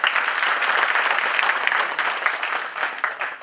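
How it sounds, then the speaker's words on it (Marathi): Audience applause breaks out at a Maharashtra Plumbing Association event in Chopda, a dense, steady clapping from a crowd that keeps going for the full few seconds without any speech. "आज आपण गंगाजल क्वाक साठी एकदा जोरात टाळ्या होऊ द्या"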